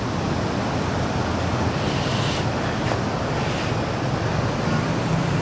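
Continuous surf washes onto Kuta Beach in Bali on a morning, a steady broadband roar of waves with some wind noise and no talking.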